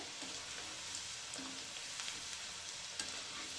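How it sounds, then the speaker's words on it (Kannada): Potatoes for French fries frying in oil, a steady, fairly quiet close sizzle with occasional small pops and stirring clinks. "ಆಲ್ರೆಡಿ ಸ್ವಲ್ಪ ಬೆಂದಿದೆ ಆಲೂಗಡ್ಡೆ ನೀರಲ್ಲಿ ಈಗ ಎಣ್ಣೆನಲ್ಲಿ ಕರಿತಾ ಇದೀವಿ"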